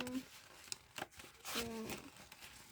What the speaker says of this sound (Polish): Bierzemy nożyczki i otwieramy